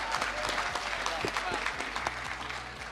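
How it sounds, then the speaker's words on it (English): Audience applause at a national ICT summit award presentation, a steady wash of clapping with a low hum underneath that thins slightly toward the end. "Can we please give a round of applause for Utusavera in her absentia"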